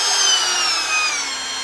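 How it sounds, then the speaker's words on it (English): A DeWALT DCW600 cordless compact palm router with a 1/4-inch collet runs steadily, giving a fairly quiet, even high motor whine that drifts slightly in pitch. "Fairly quiet, about as loud as what you would expect from a palm router."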